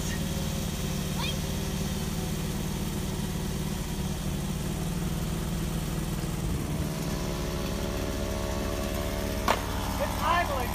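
A vehicle engine idling, heard as a steady low rumble that stays even and continuous throughout, with faint background voices and a couple of small clicks near the end.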